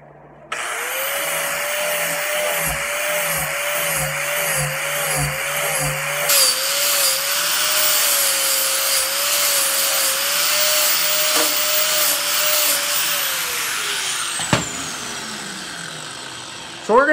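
An angle grinder with a flap disc grinds down the edge profile of a knife blade, a loud, steady high whine held for about fourteen seconds with rhythmic scraping pulses early on, then spinning down at the end.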